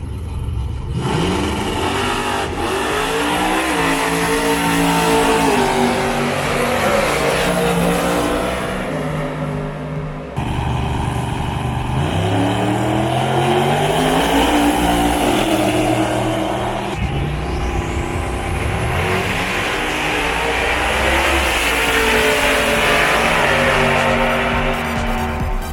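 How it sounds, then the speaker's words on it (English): Drag racing cars accelerate hard at night in Bahrain, loud engines climbing through rising gear pulls one after another, with crowd noise and a roaring, continuous background throughout. "Bahrain drag racing tonight"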